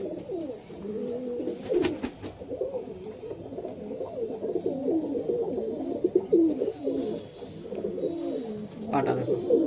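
Male pigeons at a pigeon sale in Nabadwip keep up a steady chorus of low, rolling coos, several birds overlapping close by with no pause, a few sharp clicks and rustles mixed in.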